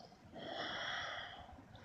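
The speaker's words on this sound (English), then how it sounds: "One of the members makes a perception check and hears deep breathing." A red dragon breathes deeply in its tower lair: one long, rasping, snort-like breath swells and fades over about a second, fairly close and alone.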